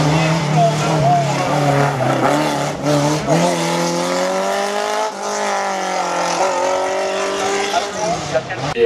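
A race car climbs a hill-climb course at a 50th-edition event, its engine revving hard through several rising gear pulls, loud and close, with tire noise and a commentator talking over it.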